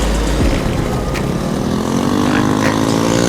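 A Kawasaki KLX110R dirt bike rides close by, its engine giving a loud, continuous buzzing drone whose pitch slides as it moves.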